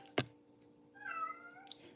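A house cat gives a single drawn-out meow in a quiet room, bracketed by a couple of brief clicks or taps, with no talking.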